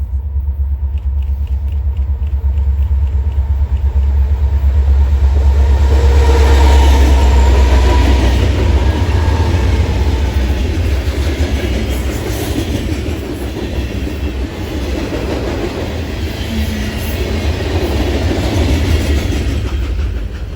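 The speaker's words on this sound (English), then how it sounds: "This train was also a pleasant surprise with a C40-8M barn trailing." A freight train rolls past with a C40-8M locomotive trailing, a loud, close rumble of wagons with rhythmic wheel clatter that swells in the middle and continues steadily to the end.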